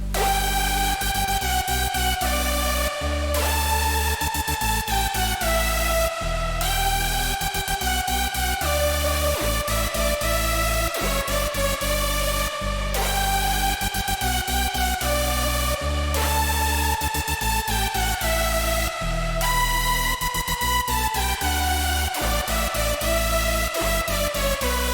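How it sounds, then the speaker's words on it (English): A hardstyle synth lead built in FL Studio 20 plays a loud, dense, sustained detuned melody with rhythmic note changes and heavy low end, continuous throughout. "So the lead sounds something like this."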